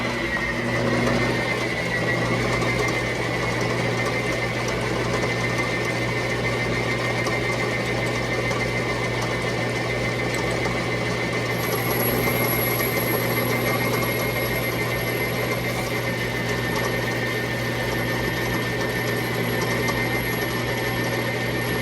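A Logan metal lathe turns a backing plate for a 4-jaw chuck while the cutter takes a facing cut, giving a steady mechanical hum and whine with a faint rhythmic ticking. It carries on loudly and evenly, with no voices.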